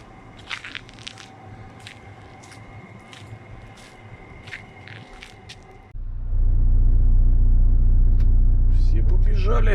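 A Subaru engine cranks and catches, then settles into a loud, steady, close rumble that carries to the end. Before it, sparse clicks and rustles sound inside the car, with voices faintly in the background.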